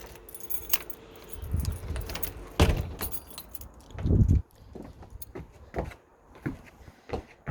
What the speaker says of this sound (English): I'll pop these keys.